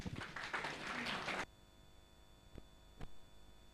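A church congregation at a Sunday service applauds in a brief burst of clapping that cuts off abruptly after about a second and a half, followed by near silence with a couple of faint knocks.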